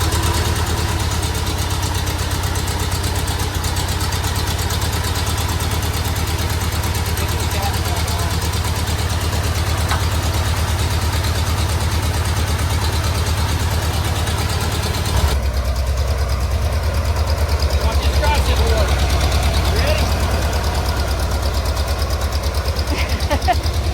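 Small piece of outdoor equipment with its gear in neutral idles steadily throughout, a constant low engine drone that roughens and shifts slightly in tone partway through, close and loud, with no speech over it.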